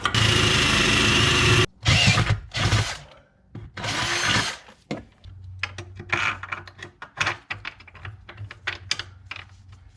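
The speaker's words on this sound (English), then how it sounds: "drill with the other hand" A power drill whirs loudly in a sustained burst while drilling a pilot hole in a Foxbody car for torque box reinforcement, stops, then runs in short spurts, followed by scattered clicks and light tapping.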